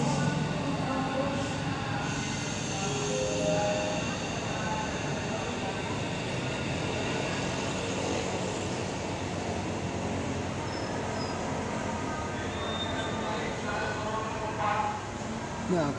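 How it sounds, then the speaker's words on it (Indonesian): A high-speed train departing Padalarang station for Bandung hums and rumbles steadily as it pulls away, a low continuous drone with faint whine, heard from inside or nearby at moderate level. "kereta cepat akan diberangkatkan ke stasiun Bandung langsung"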